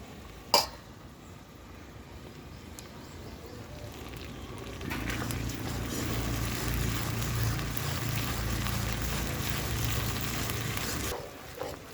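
Steady sizzling and crackling of ginger-garlic paste frying with onions in a hot pan over a wood-fired stove, getting louder partway through, with a brief clink near the start.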